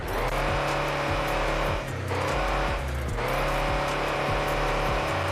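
Mercedes Sprinter bus engine in Car Parking Multiplayer, a loud, steady simulated diesel drone with rising revs and brief dips, continuous throughout with no talk.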